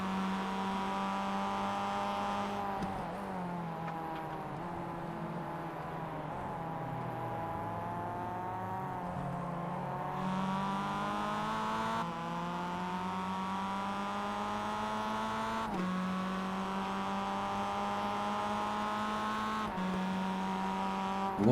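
Mazda MX-5 race cars race closely on the Summit Point Jefferson circuit, their engines a steady, droning whine that climbs and drops in pitch through gear changes and corners, continuous and without commentary.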